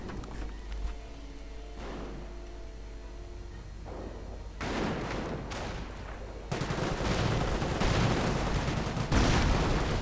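Gunfire in a WWII strategy video game, where Panzerschreck rockets go off among rifle shots. The bursts are sparse at first, then grow into heavy, overlapping volleys and blasts that build in intensity toward the end.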